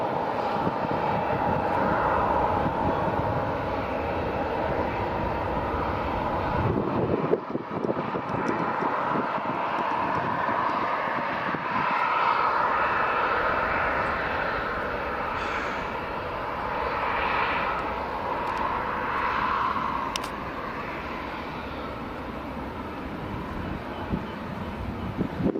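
A Ryanair airliner taxis at Edinburgh Airport on a summer evening, its engines giving a steady, fairly distant jet whine and rumble that holds for the whole stretch with some wind noise around it.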